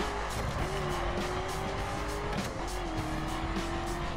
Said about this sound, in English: now this one accelerates quicker than the Corvette